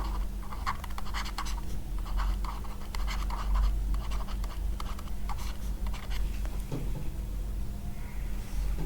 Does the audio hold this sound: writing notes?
yes